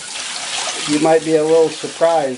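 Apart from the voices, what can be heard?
water spraying while washing a sewing machine in a shower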